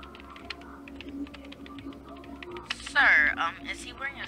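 Computer keyboard typing during a gaming skit, a run of light rapid clicks under voices, with a louder burst of speech partway through.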